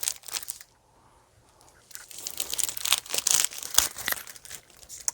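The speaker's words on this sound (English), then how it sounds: "this lovely cutting board that I've had for a bit that I haven't quite pulled out, that I've got to unwrap" Crinkling and tearing of plastic wrap as it is pulled off a new wooden cutting board, with bursts of close, sharp rustling after a brief quiet pause, and no voice.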